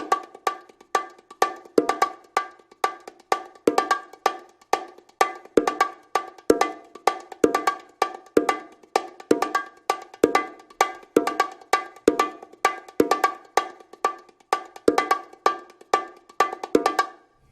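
Bongos played in a steady, repeating rhythm with one of the bass notes left out, crisp bright slaps and tones looping evenly and close with no talk.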